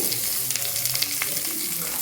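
Rice and egg frying in a home kitchen pan, a steady close sizzle with scattered scraping and stirring clicks running throughout.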